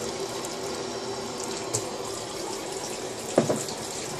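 Water poured into a microwave-safe dish of brown rice, a soft, continuous trickle and splash with a couple of brief clinks against the dish, fairly faint and close.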